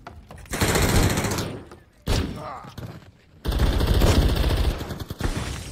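Heavy automatic gunfire in the multiplayer shooter Call of Duty Modern Warfare III, loud sustained bursts broken by short pauses, with dense rattling that fills the moment.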